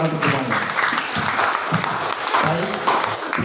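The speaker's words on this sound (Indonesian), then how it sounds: "berikan tepuk tangan sekali lagi untuk jawaban dari pasangan nomor urut 1" Audience applause at a high school student council candidates' debate, a steady burst of clapping from the crowd filling the hall throughout, with a few voices mixed in.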